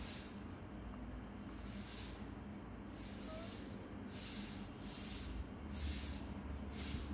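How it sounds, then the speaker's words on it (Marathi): Tomato pieces frying in oil for veg biryani, a steady soft sizzling hiss close by with gentle pulsing swells as the pieces are stirred, no voices over it. "टोमॅटो पीस तेलामध्ये टाकून भाजून घेते"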